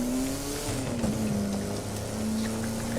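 A Jaguar E-Type Series 1 driven in The Crew 2, its engine holding a steady loud drone that dips slightly and recovers as it cruises, close and continuous with a faint tire hiss and no voices.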